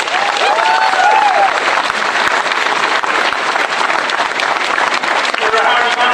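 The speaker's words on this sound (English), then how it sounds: "Round of applause to Castletown." A crowd applauds the Castletown hurling team after the Westmeath senior hurling final, a dense, loud and sustained clapping with cheers, continuous throughout.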